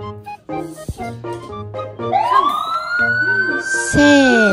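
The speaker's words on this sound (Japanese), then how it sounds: "カンカン消防車。 おい、同じだ。 消防車が2台。" Toy fire engines, two of them, playing electronic siren sounds, with bright bell-like tones giving way to a rising wailing siren that grows loud and close near the end.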